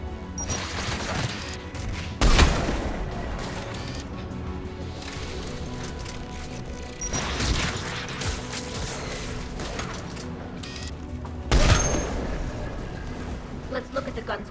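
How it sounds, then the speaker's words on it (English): Anti-aircraft guns fire in Mass Effect 3 amid a dense battle soundscape, with booming bursts standing out at intervals over a constant rumble of combat noise, fairly distant and layered under game effects. "AA guns ahead of us."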